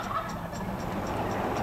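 A flock of wild Rio Grande turkeys in Johnson City, Texas, gobbling faintly at a distance over a steady, noisy outdoor background, with soft repeated calls spread through the moment.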